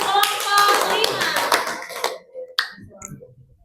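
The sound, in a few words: classroom applause for a student group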